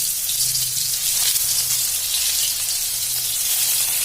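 Stuffed bitter gourd filled with masala goes into hot oil in a pan, setting off a steady, close hiss of frying that carries on without break and with no talking.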